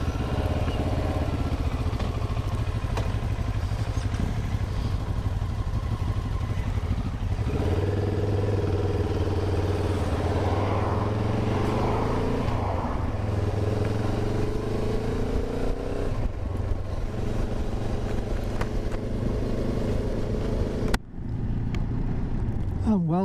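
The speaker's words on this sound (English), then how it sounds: "698cc engine, we've got something akin to 70 horsepower, which should make the bike rather interesting." Benelli 702 TRK with a 698cc engine on the road, a steady, loud engine drone with shifting revs throughout, plus wind noise, cutting off abruptly near the end.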